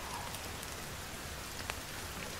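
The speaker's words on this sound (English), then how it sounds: "Oh, sorry folks, it's raining." Steady rain in the survival video game The Forest, a soft continuous hiss of drops falling on surfaces with a few brighter patters, heard alone without talk.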